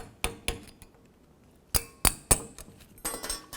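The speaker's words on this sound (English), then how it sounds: "now I'm going to take these pad slide clips off. Just use a small screwdriver." Small screwdriver prying pad slide clips off the front brake caliper of a 2009-15 Toyota Prius, sharp metallic clicks and clinks in scattered bursts, close and fairly crisp, with quiet gaps between.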